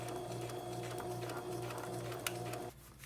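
A sewing machine hums steadily at close range while stitching the sides of a fabric camera case shut, a sustained even whir that cuts off abruptly near the end.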